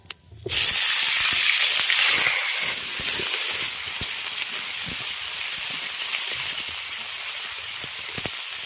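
Pieces of cut star fruit drop into hot oil with tempering spices, setting off a loud, steady sizzle that rises suddenly and then holds as a broad hiss, with occasional crackles and no voices.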